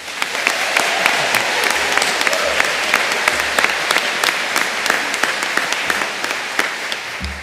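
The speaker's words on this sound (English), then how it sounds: "a round of applause for the Ulster University academic staff" Graduation ceremony audience at Ulster University in Coleraine gives a round of applause for the academic staff, dense steady clapping from a large hall with individual sharp claps standing out, close and loud, with no talk.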